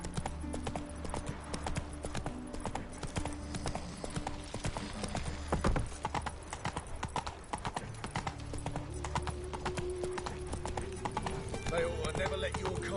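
A horse's hooves clip-clop steadily in The Witcher 3, a fantasy video game, in a fast, continuous rhythm with game voices and ambient sound underneath.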